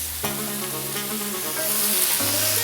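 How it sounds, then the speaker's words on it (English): Prawns, vegetables and soy sauce frying in a pan, a bright continuous sizzle with sharp clatters of stirring at the start and near the two-second mark, growing slightly louder toward the end. "Give it a good stir."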